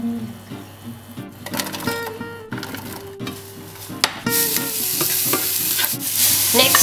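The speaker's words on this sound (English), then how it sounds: "Now we're going to fry the onion and the celery" Onion and celery fry in butter in a pan, with a continuous close sizzle and stirring scrapes and clinks, growing louder and denser toward the end.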